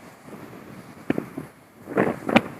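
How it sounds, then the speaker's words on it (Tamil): Strong wind at Kanniyarajapuram beach roars steadily against the microphone, with a few louder buffeting gusts near the end; no one speaks. "ஃபுல்லாக காற்றுங்க பாருங்க, எவ்வளோ காற்று பாருங்க"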